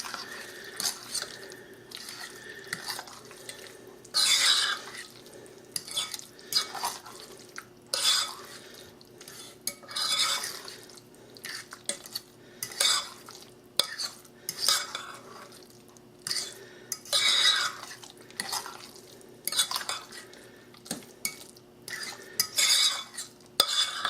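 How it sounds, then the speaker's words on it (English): A spoon stirs egg salad with a dab of olive juice in a bowl, giving repeated scraping and clinking strokes against the bowl in uneven bursts, close up, with no talking. "And then we're going to stir this around."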